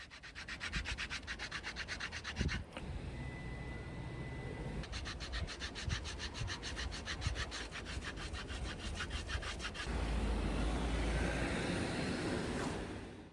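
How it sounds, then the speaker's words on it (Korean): Close, rhythmic rasping strokes of sandpaper rubbing back and forth along a leather headband edge, steady and quick, with a brief pause before resuming and a broader scrubbing hiss near the end. "사포를 이용해 단차를 줄여주고 형태를 잡아줍니다."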